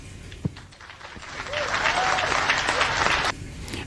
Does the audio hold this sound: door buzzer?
no